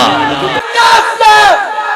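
A large crowd at an outdoor religious gathering roars a slogan back in unison, loud, close voices swelling in two bursts over about two seconds.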